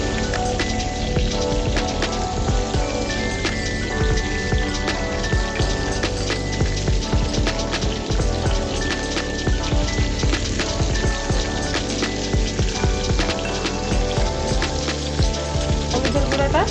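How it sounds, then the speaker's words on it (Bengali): Rui fish pieces sizzle in hot oil with a dense, steady crackle and spatter that continues without pause, close and fairly loud, and no voices over it. "মাছগুলোকে সুন্দর করে আমি ভেজে দিব"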